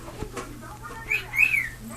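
A pet cockatiel makes a couple of short chirping, talk-like vocalisations near the end, fairly close against a quiet room background.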